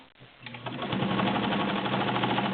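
Kenmore Model 50 sewing machine stitching through thick seams, a fast, steady mechanical whirring with a rapid needle chatter that builds up within the first second and runs loud and close.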